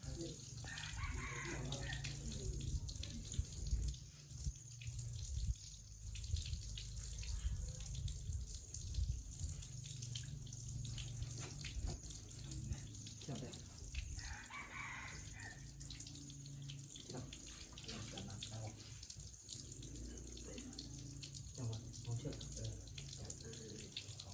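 Tap water runs steadily while a goat is being bathed, a continuous wash of water noise with voices murmuring now and then in the background.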